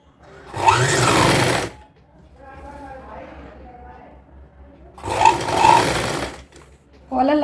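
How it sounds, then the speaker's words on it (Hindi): Sewing machine stitching a coat collar, with two loud bursts of rapid stitching separated by quieter moments where a voice speaks, and another burst starting at the end. "इसके बाद से हम सिलाई लगाना स्टार्ट करेंगे।"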